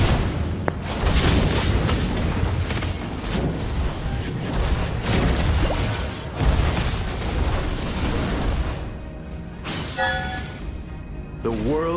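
Valir's lava burst skill in the Mobile Legends video game, a dense, loud booming fire-and-explosion burst layered over busy game effects and music, continuing for several seconds before thinning out near the end.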